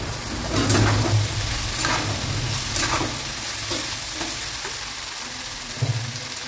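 Pasta being stirred and tossed in a hot frying pan with soy sauce, a steady sizzle punctuated by repeated scraping and clattering strokes of a utensil, close and moderately loud.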